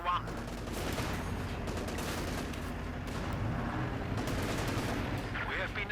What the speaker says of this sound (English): Soldiers moving, got a Panther moving in, engaging the riflemen, firing away